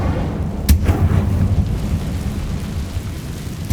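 A sharp burst of the Incendio fire spell in Hogwarts Legacy cracks once near the start, then trails off into a low, rumbling roar that fades over a few seconds, with no talking.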